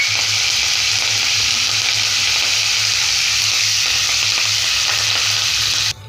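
Coriander, green chilies and curry leaves sizzling and frying in hot oil in a pan for kadhi, a steady close hiss throughout with faint stirring, no voices.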